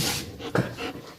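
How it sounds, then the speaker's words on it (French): A young puppy pants quickly and softly close by, a short burst of breathy huffs with one sharper catch midway. "Alors c'est encore un jeune chien."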